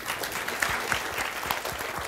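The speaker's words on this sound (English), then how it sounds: "A round of applause for them, please." Dense, even applause from the audience at a hackathon finale event, a close steady wash of many hands clapping with no break.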